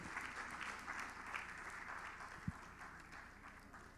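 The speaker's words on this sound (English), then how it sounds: "a round of applause for Professor Pate" A panel audience gives a round of applause for a professor, a distant, faint and even patter of clapping that holds steady, broken by a single low thump midway.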